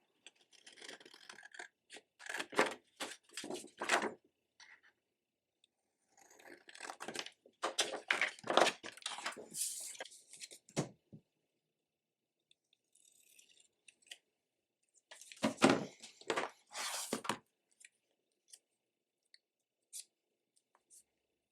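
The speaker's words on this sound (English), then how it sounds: "I will just cut it with my scissors and we'll see how this looks." Scissors snip through a paper cover for a notepad in three bursts of rapid, crisp cuts separated by pauses, close and fairly quiet, with no talking.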